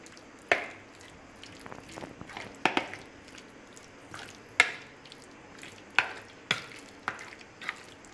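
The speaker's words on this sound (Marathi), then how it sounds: "हे पण पुन्हा छान आपण मिक्स करून घेऊया।" Marinated chicken for chicken 65, freshly drizzled with oil, mixed in a bowl with wet squelching and sharp spoon clicks at irregular intervals, close and fairly quiet with no talking.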